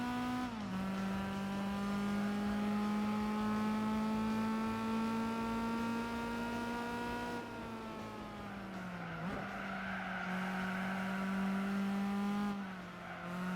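Car engine and exhaust in the Gran Turismo 4 racing game, droning loud and steady with a harmonic growl that rises and dips as revs shift, alongside brief tire squeal, with no talking.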